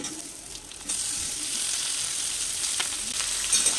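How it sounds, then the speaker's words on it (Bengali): Chopped tomatoes hit browned, fried onions in a pan for a fish-head and cabbage dish, setting off a loud, steady sizzle that jumps up sharply about a second in and stays dense and hissing to the end. "এবার আমি টমেটো কুচি দিয়ে দিচ্ছি"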